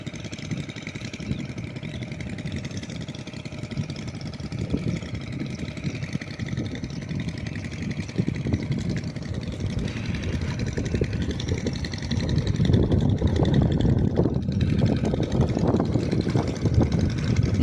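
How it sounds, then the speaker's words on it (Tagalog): A loud engine drives a water pump irrigating a rice field, running as a steady close drone that grows heavier and rougher toward the end. "Malakas itong makina na to mga sangga,"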